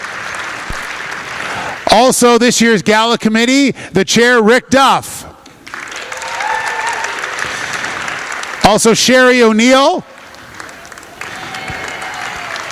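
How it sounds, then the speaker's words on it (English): Audience applause at a business excellence awards gala, bursts of clapping from a crowded room alternating with a man announcing names over a microphone, the clapping swelling again near the end. "A big round of applause for the volunteers."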